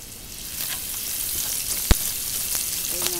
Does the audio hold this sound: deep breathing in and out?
no